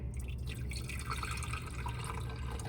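Borax solution being poured from a pot into a container, a steady, continuous liquid trickle and splash with no pauses.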